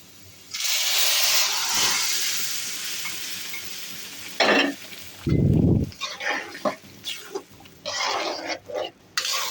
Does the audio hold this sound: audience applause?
no